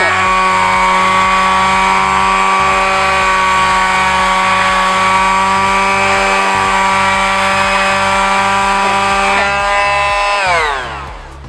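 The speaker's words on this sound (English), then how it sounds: "Okay, we finished sanding." A power sander runs on a wooden bedframe, giving a loud, steady whining drone with a rough grinding texture that holds for several seconds and then winds down as it is switched off.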